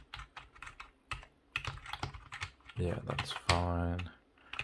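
Keys clacking on a Trust GXT 830-RW Avonn gaming keyboard, a run of quick irregular taps close to the mic, with someone talking over part of it.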